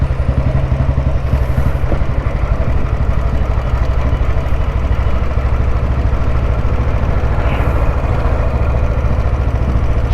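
A vintage Royal Enfield Bullet with a cast-iron CI engine and added crank weight runs close by at a steady idle, its single-cylinder exhaust thumping in a rapid, even beat with mechanical clatter and no talking.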